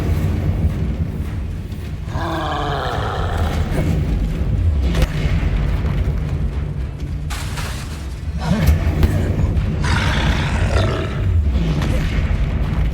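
In the Hogwarts Legacy video game, the Incendio fire spell is cast with deep, roaring booms and whooshing bursts over a steady rumbling game background, loud and close, while a voice shouts over the action.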